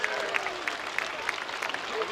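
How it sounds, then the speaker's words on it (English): Spectators at a seaside airshow in Clacton applaud a pilot after his landing. The clapping is fairly faint and scattered, with a public-address voice speaking over it. "shall we give him a great big round of applause, Clacton?"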